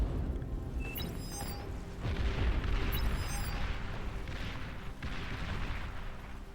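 Destroyers in the Beyond All Reason strategy game firing ranged shots: dull booms and blasts recur over a dense rumbling battle din, with faint high electronic pings, no speech.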